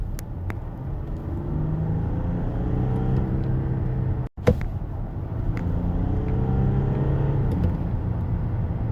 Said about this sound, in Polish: zanim auto przyspieszy po naciśnięciu pedału gazu do oporu